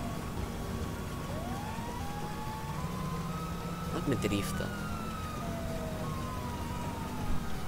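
Police car sirens in the video game GTA V Online wail faintly in the background, rising and falling over a low engine rumble, while someone speaks Italian.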